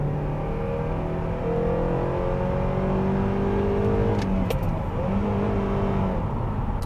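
A car engine drones and revs steadily through a drift, loud and close with shifting pitch and some tyre or wind noise; no one speaks.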